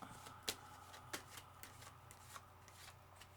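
Tarot cards are shuffled by hand at close range, quiet riffling and shuffling with a few sharper flicks and slaps in an uneven rhythm, no talking over it.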